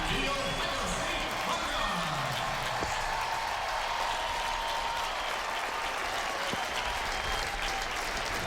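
Applause from a large stadium crowd at an Ohio State football spring game fills the space as dense, sustained clapping and cheering, with an announcer's voice over it.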